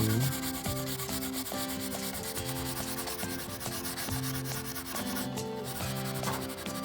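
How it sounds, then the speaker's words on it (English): A sanding pad rubs lightly and steadily against the burl wood veneer of a 1980s Decca side table in a continuous scratchy hiss, with tuneful background music playing throughout. "this little sanding pad real light takes it off"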